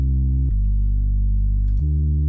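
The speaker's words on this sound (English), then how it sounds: "It's straight up just like a sine wave with a little bit of distortion" Synth bass made from a plain sine wave with a touch of distortion, holding steady low sustained notes that shift pitch twice, loud and upfront with no other instruments.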